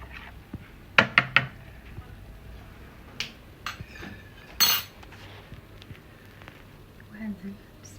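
A spoon stirs salt into a pot of boiled water, with a few sharp metallic clinks and taps against the pot, then a softer scrape, while a voice talks faintly in the background.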